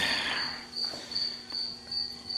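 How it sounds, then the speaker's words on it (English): Crickets chirping steadily at 3 a.m. in a high, continuous trill, close by and fairly faint, with no other sounds or voices. "Crickets are keeping me company here, 3 o'clock in the morning"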